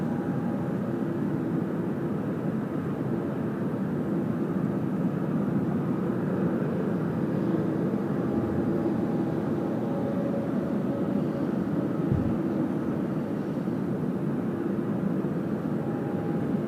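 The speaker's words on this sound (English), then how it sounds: "Nice long takeoff roll there from the 75." A Boeing 757 airliner rolls for takeoff at Sydney Airport on a windy night, a steady, broad engine roar holding at a constant distance for the whole stretch with no voices over it.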